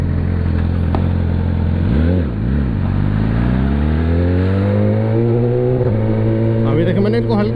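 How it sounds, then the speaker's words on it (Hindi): A Yamaha R6 600cc sport bike idles with a steady engine hum, then is given brief throttle blips that rise and fall twice before a longer, smooth rev climbs and holds, with someone talking throughout. "अभी देखिए मैंने इनको हल्का सा रेव दिया"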